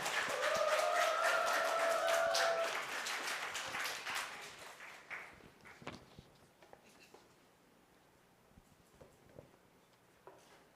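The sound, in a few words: congregation applause welcoming the speaker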